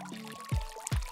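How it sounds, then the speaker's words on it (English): Isopropanol alcohol is poured into a bottle to make airbrush cleaner, a short, close splash of liquid with a rising fill tone and a couple of gurgling glugs. "And then the last third we'll fill with isopropanol alcohol."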